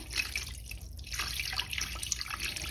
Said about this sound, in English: Pour it in the pot.